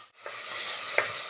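Tomatoes and green chilies frying in a pan, with a steady broadband sizzle and two soft stirring scrapes against the pan. No talk is heard.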